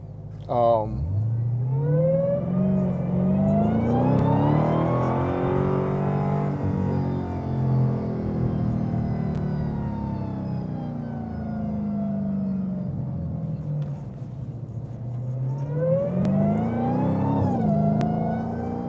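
A Dodge Demon 170's powerful engine revs hard and accelerates, its pitch sweeping upward and falling, then surging again near the end, loud and close.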